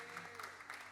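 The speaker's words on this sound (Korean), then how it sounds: "우리를 끝까지 인도하신 우리 주님께 감사와 영광의 박수 올려드립니다." Faint, steady applause from a church congregation during a Sunday worship service, a soft continuous patter with singing or voices mixed underneath.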